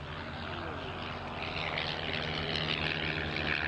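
A Fieseler Storch with its original 240 hp inline Argus engine flies by, its steady propeller drone loud and continuous and swelling slightly as it nears.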